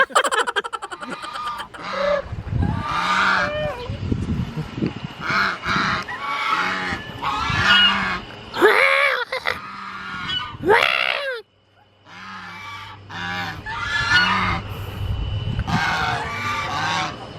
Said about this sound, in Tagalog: Gansa yan, di ba? Oo, yun yung gansa.